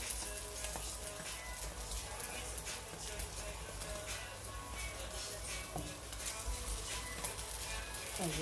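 Eggs fry in a pan with a steady crackling sizzle, broken now and then by faint scraping and clinks of a utensil against the pan.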